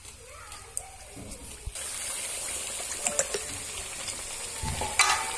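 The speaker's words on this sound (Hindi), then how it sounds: "ये देखिए हमने दो तीन पूड़िया इसमें डाल दी है अच्छे से बॉईल होने दीजिए" Spinach puris dropped into hot oil and deep-frying, a rising hiss and bubbling that swells after the first second and holds steady, with a few faint clinks near the end.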